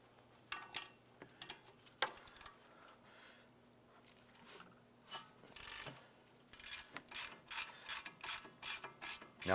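A hand ratchet clicks rapidly up close while loosening a rear brake caliper bolt on a 2006-2011 Cadillac DTS, in quick runs of ratcheting with short pauses, getting busier and denser toward the end.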